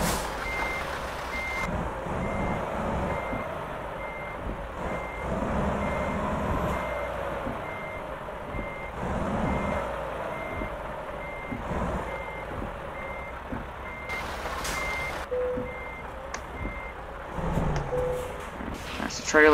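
Reversing beeps from a heavy truck backing up a trailer in American Truck Simulator, a repeating electronic beep over a steady engine drone with occasional air-brake hiss, while someone talks over it.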